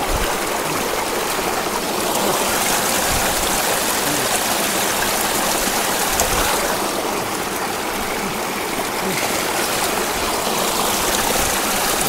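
A cold mountain stream rushes and babbles steadily throughout, a dense continuous wash of flowing water heard up close with no talking.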